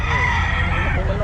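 A chicken at a pet market, with crowing-like calls and clucks over steady crowd and market noise, people talking nearby.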